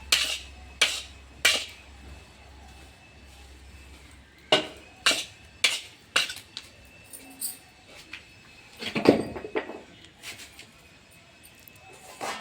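A spoon mixes a homemade cold remedy in a bowl, sounding as sharp, irregular clinks and taps against the vessel, some in quick clusters, with quiet gaps between.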